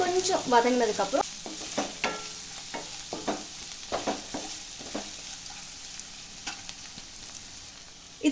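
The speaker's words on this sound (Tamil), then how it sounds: "நம்ம தக்காளி ஆட் பண்ணிக்கலாம். எல்லாத்தையும் சேர்த்து நல்லா வதக்கலாம்." A spatula stirs tomatoes into browned onions in a pan for chicken gravy, giving repeated scraping strokes over a soft sizzle. The strokes come irregularly, about one per second, then thin out toward the end.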